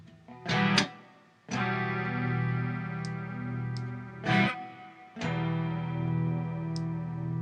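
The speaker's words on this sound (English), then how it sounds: "Let me give myself a little bit more reverb on the guitar." Electric guitar drenched in reverb, with strummed chords ringing out into a long wash of echo and several sharp attacks, loud and close with no one talking.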